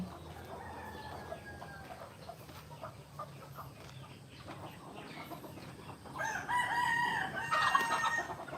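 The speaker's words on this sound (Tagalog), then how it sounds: "meron din kami manok dito, nakakulong." Caged chickens cluck quietly for several seconds before a rooster lets out a loud, drawn-out crow near the end.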